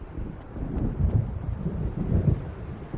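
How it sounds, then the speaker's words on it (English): Low, rolling thunder of an approaching storm in the Alan Wake Remastered video game, a deep muffled rumble swelling twice over a windy, rain-tinged background. "It seems there's a storm coming."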